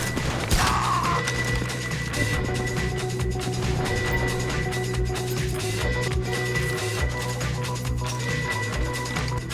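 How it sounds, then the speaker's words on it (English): Gunfire rings out in GTA Online's Cluckin' Bell mission as shots hit a safe's lock handle, with a run of sharp, repeated reports over steady droning background music. "You can shoot the handle and break the lock."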